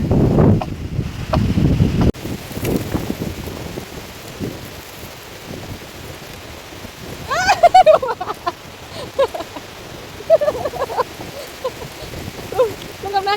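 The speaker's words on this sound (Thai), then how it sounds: "ลมก็แรงลมก็แรง" Strong wind rushes and roars steadily through trees, including eucalyptus, in rural northeastern Thailand in winter. The broad gusting noise is close to the microphone, and a voice speaks briefly partway through.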